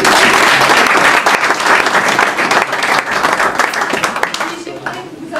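A crowd applauds steadily and loudly for several seconds, the clapping thinning slightly toward the end, with a few voices mixed in.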